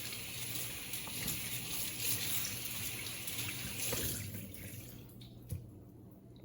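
Tap water runs steadily into a sink while curly hair is wetted, a moderate broadband rush with a few drips and splashes near the end and no talking.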